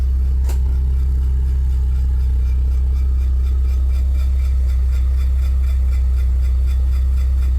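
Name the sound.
Porsche 944 engine running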